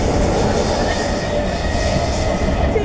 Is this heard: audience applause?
no